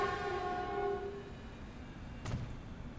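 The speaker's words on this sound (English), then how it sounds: "Train's being a little noisy." Video game train in Transport Fever 2: a sustained multi-tone horn blows for about a second over a steady rolling rail rumble, which carries on alone with a brief burst of clatter later.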